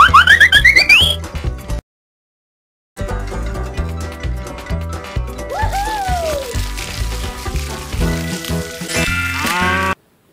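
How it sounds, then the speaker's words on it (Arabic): A cow mooing within a children's animal-sounds song: a drawn-out moo over bouncy backing music, with a brief silent gap and a voice near the end. "بقرة"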